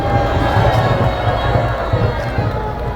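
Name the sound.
crowd applause and cheering at rally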